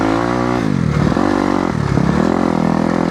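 A Cunfon M200 small dirt bike engine revs steadily and loudly up close, its pitch dipping and climbing twice as the throttle is worked, with no talking.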